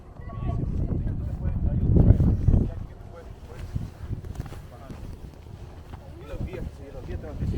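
Strong, cold wind on top of Stone Mountain, Georgia, buffets the microphone in rough, low gusts that peak early and then ease, with voices heard faintly beneath the noise.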